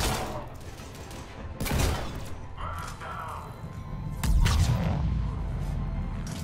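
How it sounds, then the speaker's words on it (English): Shotgun blasts in the video game Mass Effect 3, two heavy booming reports a few seconds apart over a low rumbling game backdrop, with mechanical clatter between shots. "Okay, this shotgun is pretty good."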